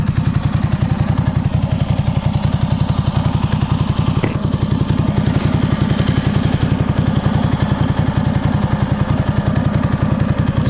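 A 2008 Ducati S2R1000 Monster sits idling in neutral outdoors, its engine putting out a steady, loud, rapid lumpy thrum with a fast even pulse and a faint mechanical clatter, no voices.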